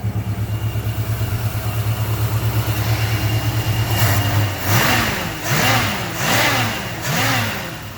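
A car engine fitted with a Quick Fuel Slayer 450 cfm carburetor idles steadily, then revs up in four or five rising and falling bursts. The engine is close and loud, and no one speaks.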